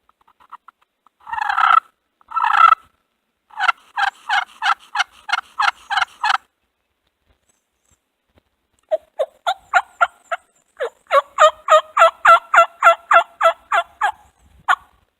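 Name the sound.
wild turkeys gobbling at dawn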